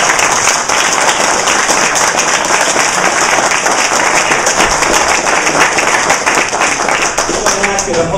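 Dense, steady applause from an audience at a community meeting about police misconduct in White Plains, a continuous wash of many hands clapping at full volume throughout, with voices mixed in.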